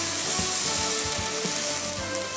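Vegetable broth and crushed tomato puree poured into a hot pan for a cauliflower tomato sauce, a close, steady sizzle with soft bubbling pops repeating throughout.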